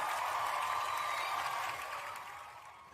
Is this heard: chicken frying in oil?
no